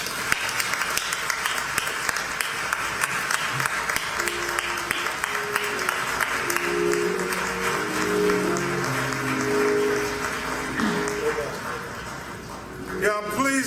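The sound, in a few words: audience applause at a memorial service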